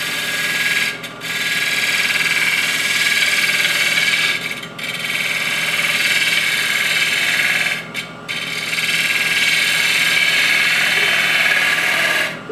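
A bevel-rubbing cut on a wood lathe with a Hunter Viceroy tool: a steady, fairly quiet hissing scrape with a faint whine underneath. It breaks off briefly three times, then resumes.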